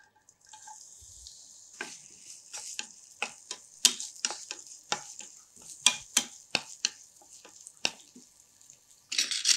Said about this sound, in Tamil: முதல்ல இங்கே ஒரு பேன் வச்சுருக்கேன். இதில் கொஞ்சமாக எண்ணெய் விட்டுக்கலாம், கொஞ்சம் வெங்காயம் சேர்த்துக்கலாம்